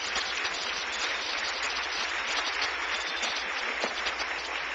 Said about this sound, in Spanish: Denle un aplauso bien fuerte al Rey.